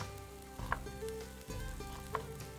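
Chopped onion pieces drop into a hot pan and sizzle steadily, with soft clinks and stirring scrapes over the quiet, continuous frying.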